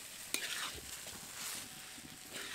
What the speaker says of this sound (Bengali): চাল ডাল দেওয়ার পর খুব ভালো করে নেড়ে নেব।